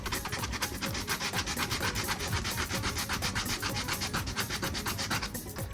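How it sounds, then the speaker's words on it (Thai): Sandpaper rubbed back and forth by hand over a filled spot on a workpiece during drill-bit work, a steady, close, continuous rasping scrape with rapid even strokes and no talking. "เอากระดาษทรายมาขัด"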